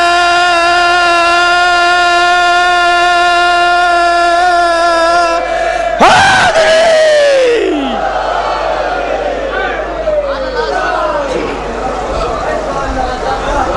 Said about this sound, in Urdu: نعرے حیدری بھی اپنے دونوں ہاتھوں کو بلند کر کے نعرے حیدری بھی بولیے گا، یا علی بولیے گا مل کر